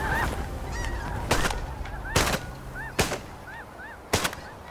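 Geese honk in scattered calls over a Hudson Bay hunting site in Canada, cut by several sharp, loud bursts spaced about a second apart against a steady background rumble.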